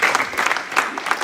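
Congregation clapping during a Spanish-language church service, a short dense burst of applause with a slightly pulsing rhythm.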